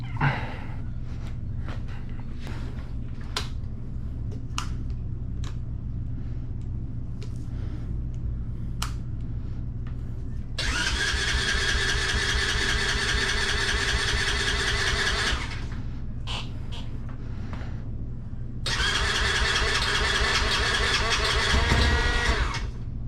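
Grom clone motorcycle with the choke on, being started: several short cranking bursts and clicks, then two louder runs where the small engine catches and idles roughly before cutting out.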